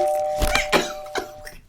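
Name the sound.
doorbell ringing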